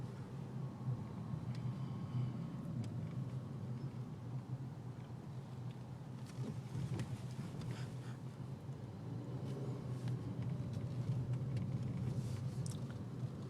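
A 2014 Nissan Altima 2.5S drives along a road, heard from inside as a steady low rumble of engine and tire noise with faint rattles and ticks, even and continuous with no talking.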